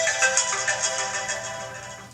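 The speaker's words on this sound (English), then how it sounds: "Forgot to put the phone on silent." A phone ringtone plays close by, a bright electronic warbling melody that repeats continuously throughout with no voices.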